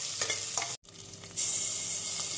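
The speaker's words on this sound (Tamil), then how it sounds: "இஞ்சி பூண்டு விழுது சேர்த்து நன்றாக வதக்க வேண்டும்" Sliced onions sauté with ginger garlic paste in a hot pan, giving a steady crackling sizzle broken by stirring scrapes. A brief silent gap comes partway through, then a louder, brighter sizzle resumes close up.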